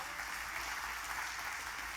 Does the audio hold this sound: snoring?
no